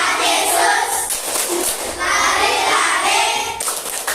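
Children in a classroom perform the clapping chant Tepuk Sakeus, rhythmic bursts of hand claps mixed with lively shouted chanting voices, loud and close, pausing briefly between phrases.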